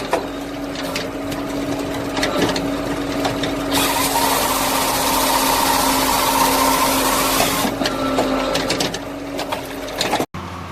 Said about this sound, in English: the Beaver Equipment 1200mm firewood processor is operating with tremendous force